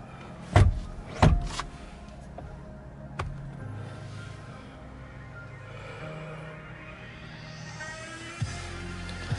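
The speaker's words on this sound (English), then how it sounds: "power folding side mirrors" Power folding side mirrors on a 2021 Geely Okavango 1.5 Turbo SUV whir quietly, opening with two sharp clunks, followed by soft motor hums and faint clicks.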